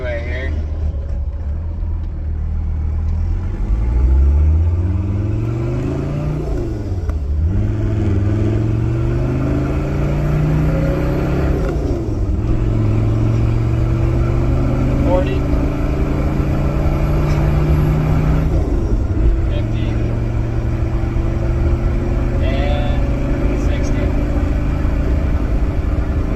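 A 1983 Mercedes 240D with a manual gearbox and a turbocharged OM617 diesel, not fully warmed up, accelerates onto a freeway, its loud, gruff engine climbing through several gears with clear drops at each shift before settling into a steady cruising drone.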